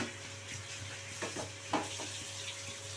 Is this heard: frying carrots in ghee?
yes